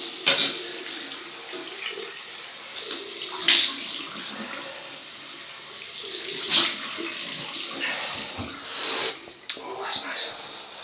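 Cold water runs from a tap into a sink before a shave, a steady close rush with occasional splashy surges, and faint voice sounds underneath.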